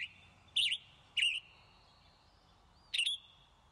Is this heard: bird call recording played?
yes